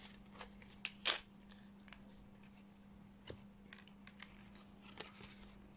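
Tarot cards are drawn from a deck, giving a few soft, scattered card slides and flicks, one sharper snap near the start, quiet and close over a faint steady hum.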